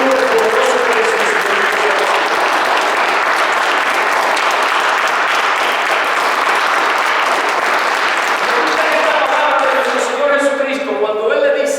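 A church congregation claps loudly and continuously through a worship service, a dense, sustained wall of applause with voices mixed in, easing off at the very end.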